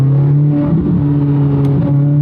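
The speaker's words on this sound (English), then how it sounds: "it's just more of that high-pitched, pure exhaust note" A Chevrolet Corvette C8 Z06 coupe downshifts, its exhaust giving a loud, steady high-pitched drone with a brief rise in revs from the cockpit.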